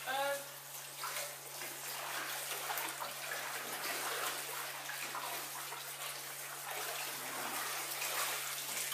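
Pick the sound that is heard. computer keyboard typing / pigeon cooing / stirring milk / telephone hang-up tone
stirring milk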